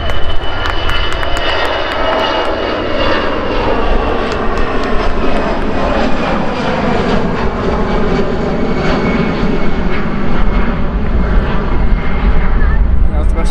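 Airliner taking off at Manchester Airport, bound for Munich, a loud sustained jet roar building and rumbling steadily as it climbs away, with a voice speaking faintly under the engine noise.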